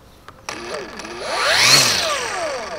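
A Makita garden power tool's engine starts with a push button: a brief click, then a rising, revving motor whine that peaks and slowly settles, close and fairly loud, with no talk.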